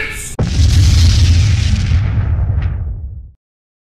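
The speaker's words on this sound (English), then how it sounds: "EXPLOSION!" A loud, booming explosion sound effect bursts in after a short sharp crack, its deep roar rumbling and slowly fading for about three seconds before cutting off abruptly to silence.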